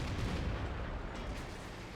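Artillery fire in a tank battle video game, a dull, rumbling low burst that fades into a muffled decay, fairly faint.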